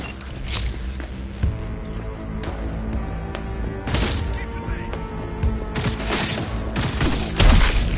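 Scattered gunfire in the Cyberpunk 2077 video game, with several sharp cracks and bursts over a dense, busy game soundscape of music and effects, moderately loud and continuous throughout.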